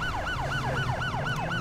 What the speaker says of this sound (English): I'm gonna turn my siren off real quick here.